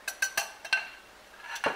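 Eggs are stirred in a bowl for a cheesecake batter, heard as a handful of sharp, close utensil clinks against the bowl, spaced irregularly with quiet gaps and a final scrape.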